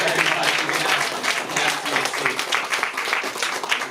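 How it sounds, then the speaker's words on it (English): An audience applauds a volunteer named Brandon at a magic show, with steady, dense clapping filling the room at a constant level throughout. "Give Brandon a big round of applause."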